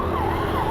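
A police van siren wails during a road trip toward Mumbai in traffic, a brief, steady rising-and-falling tone over constant engine and road rumble.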